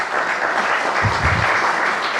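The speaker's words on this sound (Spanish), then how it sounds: "un fuerte aplauso" Audience applause at a conference on regulatory plans and urban subdivision, a steady dense wash of clapping from a crowd throughout, alone without talk.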